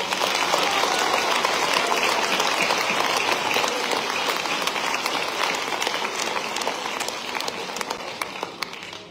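Steady, loud applause from the audience at a mayor's New Year address in Rillieux-la-Pape, a dense wash of many hands clapping continuously that fades slightly toward the end.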